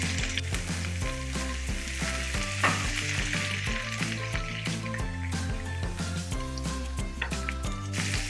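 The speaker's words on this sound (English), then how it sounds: "Okay, the oil is ready. I'm going to add the onions." Onions sizzle in hot oil for a Pinoy-style burger steak with mushroom gravy, a steady close frying hiss running throughout, with a recurring tonal hum underneath and no voices.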